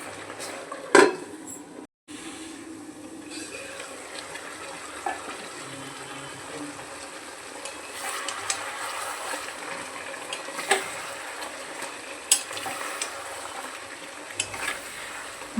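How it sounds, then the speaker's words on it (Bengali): A spoon stirring mutton kosha with potatoes and spices in a pot, scraping and clinking against the metal with soft sizzling underneath, steady and close with a sharper knock or two. "মাঝে মাঝে নেড়ে যেতে হবে, নাহলে কিন্তু তলায় লেগে যাবে।"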